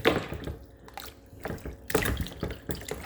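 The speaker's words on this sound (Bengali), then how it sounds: "ধুয়ে নিচ্ছি যাতে মাংসের মধ্যে থেকে যে রক্ত আছে সেটা চলে যায়।" Raw beef rinsed under a running tap, water splashing and dripping over the meat in uneven bursts, fairly close and moderately loud with no talk.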